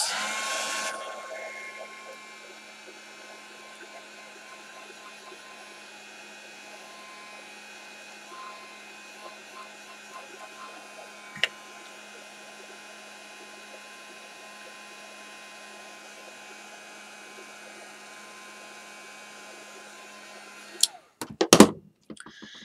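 A handheld dryer blowing on a craft project, a steady whirring hum that holds for about twenty seconds before cutting off with a few clunks of handling at the end.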